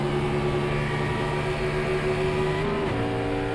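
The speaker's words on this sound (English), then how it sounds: "we're hearing more guys downshift now" Race car engine in a USRC Cup Series race at Pocono, a steady droning whine that holds pitch then drops sharply near the end as the car downshifts, loud and continuous.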